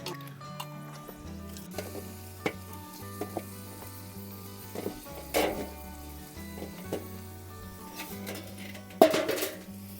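Chicken pieces, black country chicken cooked village style, sizzle steadily in a hot pan, with occasional scrapes and clinks of a stirring utensil against the metal, no talking.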